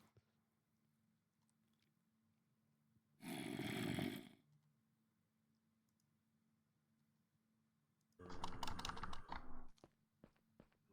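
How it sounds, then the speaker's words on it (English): Computer keyboard keys clicked during gameplay, heard as two short loud bursts of rapid typing clatter separated by quiet stretches with a faint steady hum. "This was back when you could hear me clicking on my keys when you played."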